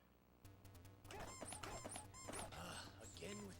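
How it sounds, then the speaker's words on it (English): Squeaky shoes sound in a Kung Fu video game run: a series of short high-pitched chirps and squeaks repeating quickly over busy game sound effects and music, fairly close. "Again with the squeaky shoes."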